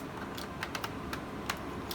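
Someone types on a Macintosh Color Classic keyboard, sparse, irregular key clicks picked up quietly over a hissy room background.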